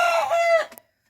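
Native Thai Pradu Hang Dam chickens give a single short, close, clear call, a cluck that rises to a crow-like note and stops abruptly, followed by silence.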